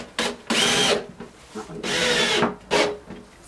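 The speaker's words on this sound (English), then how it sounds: "Then I had to screw the loft hatch cover to the frame with the screws provided on the hinges." A power drill drives screws through a loft hatch cover into its wooden frame in several close, loud whirring bursts of about half a second each, separated by short pauses.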